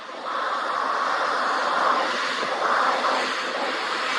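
An Airbus A380's jet engines drone steadily while it taxis for takeoff in a Toronto blizzard, a broad distant roar that swells slightly and holds with no talking.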